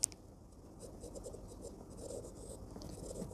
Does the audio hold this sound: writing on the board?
yes